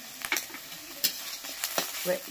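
Tomatoes frying in a pan with a ground paste of ginger, cumin and dried red chili: soft sizzling with several sharp scraping strokes of a spatula stirring, close and moderately loud, no talking.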